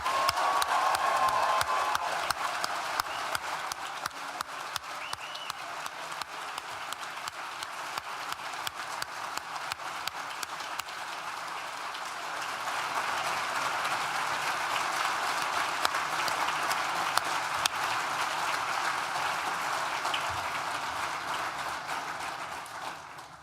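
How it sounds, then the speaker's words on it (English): A graduation ceremony audience for the class of 2021 at a university hall applauding, a long sustained roar of clapping with some cheering, steady and dense throughout. "I want you as loud as you can to clap and hoop and holler and just raise the roof on this place"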